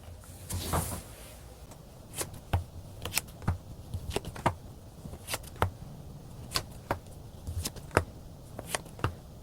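Tarot cards shuffled by hand in a quiet room, a soft rustle early on followed by a steady series of sharp riffling snaps and taps, close and distinct with no talking.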